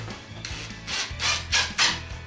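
Screws being driven into wood during termite damage repair, a few short rasping, grinding bursts of a driver biting into timber, close and fairly loud.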